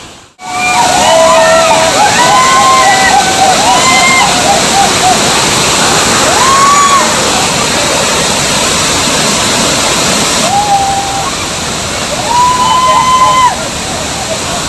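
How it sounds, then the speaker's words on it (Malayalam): Heavy water rushes and roars steadily at a waterfall, a loud, constant broadband wash that fills the whole scene with close, unbroken flow. "ഭയങ്കര വെള്ളമാണ്, വെള്ളം ഒഴുകി വന്നുകൊണ്ടേയിരിക്കുന്നതാണ്."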